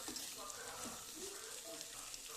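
Washed broad bean seeds frying and being stirred in a pan, a steady faint sizzle with soft scraping strokes running throughout, no voices.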